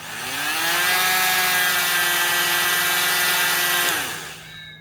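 A 4.5 amp oscillating multi-tool runs in metal mode, giving off a loud, steady, high-pitched buzzing whine up close for about four seconds before it cuts off and winds down.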